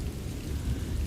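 Steady rain falling, a dense, even wash of drops with a low rumbling undertone, continuous and close with no voices.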